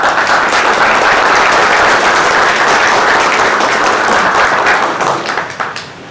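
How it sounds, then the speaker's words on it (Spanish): Sustained, loud applause from an audience at a general session of a Mexican vascular surgery conference, dense clapping throughout that tapers off in the final second. "Demos un fuerte aplauso"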